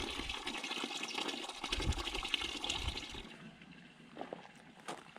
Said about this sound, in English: we go down to the other property to fill up the water buckets for them to drink